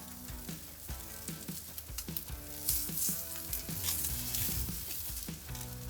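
Fish fillets sizzle on a hot grill surface, a continuous close crackle and hiss with periodic soft scraping taps over a low background hum, with no voices.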